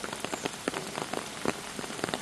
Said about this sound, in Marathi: मुसळधार पावसाचा जोर अजूनही कायम असल्याचं पाहायला मिळालं